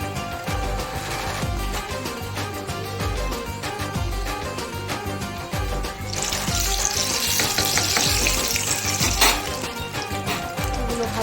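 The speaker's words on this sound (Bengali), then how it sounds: "এবার লাল লাল করে ভেজে নেব" Food frying in bubbling hot oil, a steady loud sizzle running throughout with occasional clinks and scrapes of a utensil, growing brighter and fiercer partway through.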